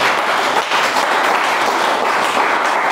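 A church congregation applauds, a dense continuous wash of many hands clapping at close, loud level across the whole stretch with no speech on top.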